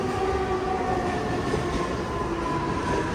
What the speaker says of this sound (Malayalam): ഇതേ ലോക്കൽ ട്രെയിൻ പോകുന്നതാ